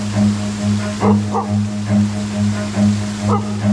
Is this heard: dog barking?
yes